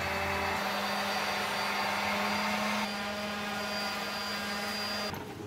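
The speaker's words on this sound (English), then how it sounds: "I use a heat gun." Steady high-pitched blowing whine of a heat gun softening adhesive-backed veneer edge banding, running continuously and close with a strong airflow hiss, its tone shifting partway through before cutting off near the end.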